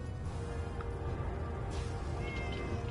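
A cat meows in a PS4 video game, faint and brief, set against a steady bed of game ambience and music.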